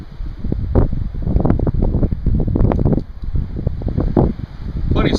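Wind buffets a microphone outdoors in steady, rough gusts with broadband rumble, continuous and close throughout with no talk.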